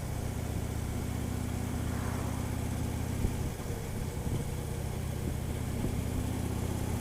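A motorcycle cruises along a road with a low, steady engine drone and constant wind noise, the engine note shifting briefly midway before settling back into an even hum.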